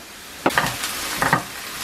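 Onions fry in a pan, a soft continuous sizzle with a couple of brief stirring scrapes, heard close and alone.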